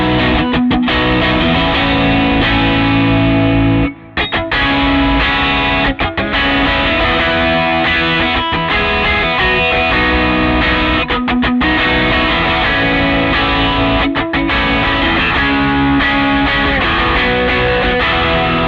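Distorted electric guitar runs through a Line 6 Helix with high end and low end cut and the mids boosted, playing a loud, dense riff with brief choppy breaks, upfront and without talk.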